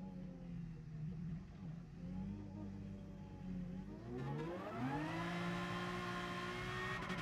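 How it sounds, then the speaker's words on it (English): A race car in the GT Sport video game drives through, its engine tone rising sharply as it nears and passes, loud and close over a steady low engine drone, with no talk. "let's just wait for this car to go through here"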